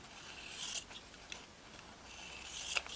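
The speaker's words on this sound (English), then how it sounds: "all you do is trim around" Scissors trim around a round fabric piece on a yo-yo puff maker, leaving a seam allowance: quiet, close snipping and rustling in a few short bursts, with no talking.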